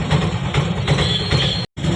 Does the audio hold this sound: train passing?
yes